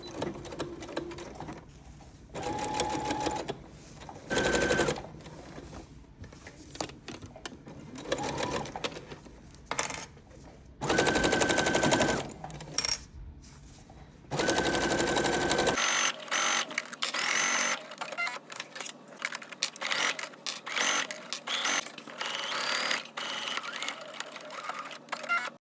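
A sewing machine stitches the pieces of a tennis bag together in close, loud bursts of rapid needle chatter separated by short pauses, later settling into a longer continuous run.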